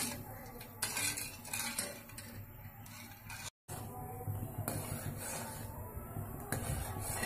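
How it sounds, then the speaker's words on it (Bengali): A spoon scrapes and clinks steadily against a pot as a jelly mixture for yogurt falooda is stirred over medium heat, a continuous close scraping with a brief break midway. "মিডিয়াম আছে, নাড়ছি আমার জেলোটা প্রিপেয়ার করার জন্য।"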